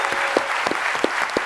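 A conference audience at Webflow Conf 2022 claps for Webflow University, a dense, steady round of applause with a few sharper individual claps standing out near the front.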